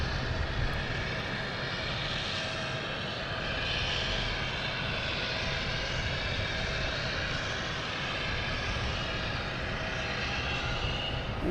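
A Swiss Air airliner flies over Boston Logan Airport, its engines producing a broad, steady roar that holds strong and even for the whole stretch, with no voices.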